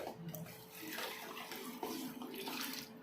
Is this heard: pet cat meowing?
no